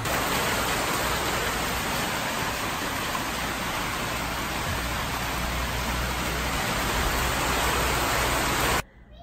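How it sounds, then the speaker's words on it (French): Steady, dense rain pours outside as a constant broadband hiss with no pauses, cutting off abruptly near the end. "avec la pluie qu'on s'est tapée dès le matin au réveil"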